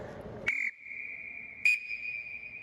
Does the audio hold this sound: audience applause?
no